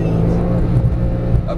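Porsche 911 Turbo S engine pulling at full throttle on a coned driving course, a steady loud low-pitched roar that holds for a brief stretch, with a voice talking over it.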